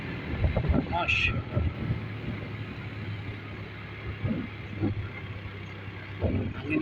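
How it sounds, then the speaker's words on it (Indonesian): Strong wind buffets the microphone on a beach with big waves, a steady rushing roar with low gusty rumble throughout, while a voice speaks briefly over it. "angin kencang guys"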